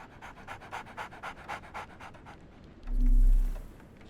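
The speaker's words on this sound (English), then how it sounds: "So, Barnes has a dog now. Who's a good boy?" A dog pants in the Sherlock Holmes The Awakened video game, a quick rhythmic run of close breathy puffs for about two seconds, then a brief pause and a short low whine-like tone.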